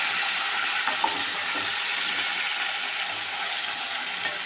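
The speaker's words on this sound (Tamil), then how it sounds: "சிக்கனை கொட்டிக்கணும்." Half a kilo of chicken tipped into a hot pan with fried curry leaves for uppu kari sizzles loudly and steadily, a continuous close hiss with faint stirring clicks.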